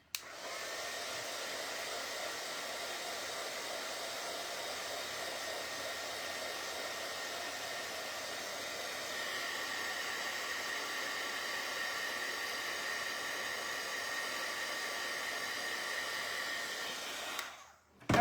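A hair dryer blows steadily and loudly on a painted craft piece for a summer duck tiered tray decoration, a constant airy whir that runs for about seventeen seconds and then switches off.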